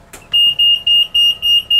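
Watertight door alarm aboard a barge beeps in a steady repeating pattern, six loud electronic tones about a quarter second apart, after a brief clunk at the start.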